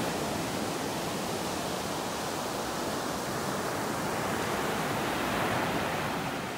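Steady broadband surf on a beach in North Naples, Florida, with a continuous wash of breaking waves, fairly close and even, with no voices.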